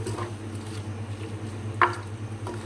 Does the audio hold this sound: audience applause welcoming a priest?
no